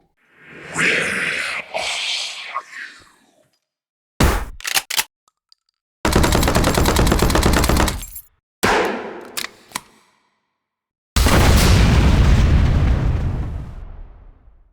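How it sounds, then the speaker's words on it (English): Designed game weapon effects play as separate bursts of loud gunfire, a rapid automatic volley and booming rocket-launcher explosions with long decaying tails, each burst divided by silence. "To design the weapon sounds, I split each weapon into different sections for the various components of the gun."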